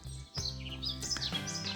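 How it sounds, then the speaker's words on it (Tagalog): Several birds chirp and call in a garden of azaleas, rhododendrons and lilacs, their bright tweets overlapping steadily for a couple of seconds at close to moderate distance. "So, narinig niyo mga ibon, ang ingay-ingay."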